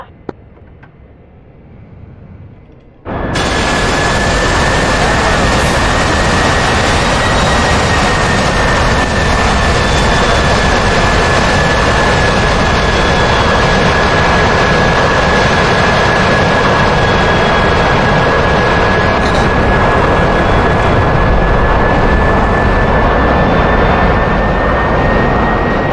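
A Saab Viggen jet engine in the flight simulator DCS World spools up abruptly to full throttle after a quiet start, then holds a loud, steady roar with a high whine for the rest of the clip.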